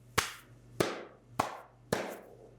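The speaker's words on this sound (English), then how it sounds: "Let's all clap." Four slow, deliberate hand claps, close and sharp with a ringing room echo after each, evenly spaced and alone.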